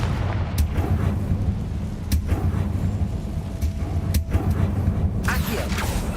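The Confringo blasting spell fires in the Hogwarts Legacy video game: several sharp, loud blasts crack out at irregular intervals over a constant low rumbling game soundscape.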